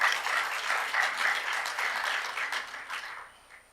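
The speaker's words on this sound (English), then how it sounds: "A round of applause, please" Moderate applause at a public health conference in Africa, a dense patter of clapping that gradually fades out over a few seconds.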